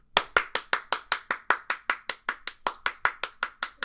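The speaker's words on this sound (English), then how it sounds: "Everybody clap." One person claps alone in a steady, even rhythm, about twenty crisp, close claps in quick succession with near silence between each.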